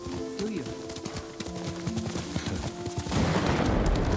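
Horse hooves clop in a quick, rhythmic gallop in the video game Ghost of Tsushima, close and moderately loud, with a character's voice heard briefly over the riding.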